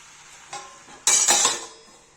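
Aloo parwal sabji, a dry potato and pointed gourd dish with fennel, flipped in a pan: a soft scrape, then a loud clatter of spatula against metal that fades over about a second.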